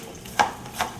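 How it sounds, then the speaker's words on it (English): Two crisp knife chops through an onion on a cutting board, spaced about a beat apart, close and fairly quiet with no talking. "Chop up a little onion."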